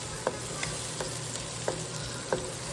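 Onion, curry leaves and green chilli fry in oil with a few bits of tomato for a mutton curry, a steady close sizzle broken by regular light taps of a stirring spoon.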